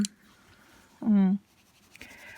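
A colored pencil scratches briefly across paper, a short rough stroke, with quiet speech around it.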